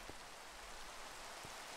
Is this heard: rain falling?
yes